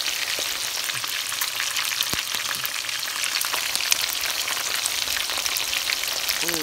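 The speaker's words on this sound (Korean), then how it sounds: "팬에다가 튀겨서, 말랑말랑한 걸 튀겨가지고" Soft rice cakes for tteokbokki tangsu fry in a pan with a continuous, close, bubbling sizzle and scattered pops, steady in loudness throughout.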